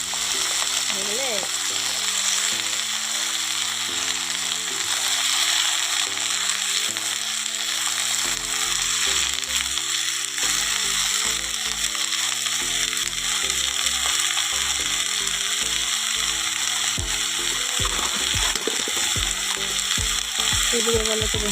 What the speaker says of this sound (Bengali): দেখো ফোড়নগুলো ভালো করে ভাজা হয়ে গেছে।